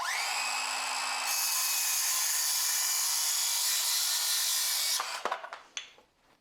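A circular saw cuts through a wooden board, a loud, sustained high whine lasting about five seconds, then the blade spins down with a few clattering knocks as the cut finishes.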